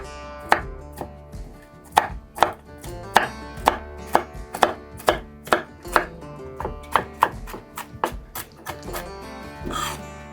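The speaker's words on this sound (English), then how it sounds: "Drop those nuts on my cutting board because we're just going to rough chop." Peanuts rough-chopped with a knife on a cutting board, a series of about twenty crisp, loud knocks in an uneven rhythm, close and clear with no one talking.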